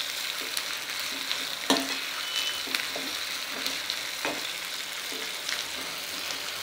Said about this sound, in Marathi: हे वाटण आपल्याला टाकून घ्यायचं आहे. आणि हे पण छान असं परतून घ्यायचं आहे आपल्याला.